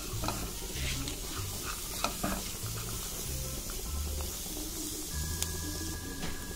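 Thinly sliced onions are mixed with a drumstick flower curry mixture without oil, producing rough scraping and stirring noises over a faint hiss, with irregular strokes close by and no talk.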